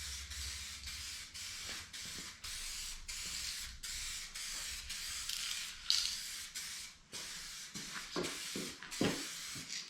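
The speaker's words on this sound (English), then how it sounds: "That's just the nature, unfortunately, of using an aerosol when it's a little bit cooler than it should be." Aerosol clear coat hisses steadily onto a Porsche Boxster panel in cool weather, a series of close spray bursts with brief pauses between passes.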